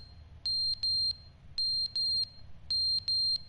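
Repeated high electronic chirps from a dying smoke detector in the video game The Stanley Parable, coming in three pairs of sharp beeps separated by short pauses over a low, steady background hum.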